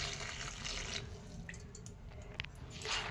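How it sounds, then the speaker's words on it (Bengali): Hot water with salt and sugar poured over fried lentil fritters for dahi vada, a soft, steady pour and trickle close by, with faint drips and a brief splash near the end, no talking. "এই গরম জলটা এর মধ্যে ঢেলে দেবো।"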